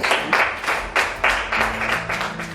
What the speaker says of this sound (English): Let's give a round of applause as it comes in.